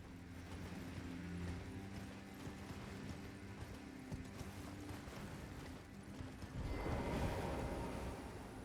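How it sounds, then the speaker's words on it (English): Horse hooves clip-clop steadily during riding in the video game Elden Ring, a continuous rhythmic gallop over layered game music and ambience, swelling louder near the end. "I love riding on my horse."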